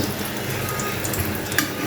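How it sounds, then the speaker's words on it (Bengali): Pointed gourd (potol) slices fry in a pan of oil with a steady close sizzle, small pops and crackles scattered across a constant hiss. "তো পটলগুলো ভাজা হয়ে গেছে, আমি আর উল্টে দিব। ভাজা না হলে ভালো লাগে না খেতে,"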